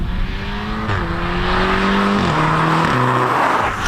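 A modified 2nd-generation Audi TTS (8J) accelerating hard, its engine note climbing through stepped gear changes with a loud, raspy exhaust, heard close and continuous without any talking.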